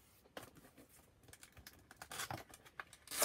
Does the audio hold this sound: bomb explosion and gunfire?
no